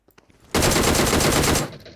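A single loud burst of automatic gunfire from PUBG Mobile roars for about a second, close and continuous, then cuts off and fades.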